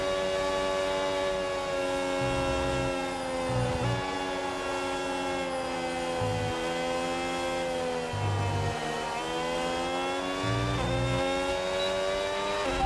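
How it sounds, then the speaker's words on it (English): An F1 car engine with a new-era power unit in the F1 26 racing game, a sustained high-pitched whine that climbs and dips as it revs through gear changes, with no voices over it. "God, I love the sound of this fucking engine."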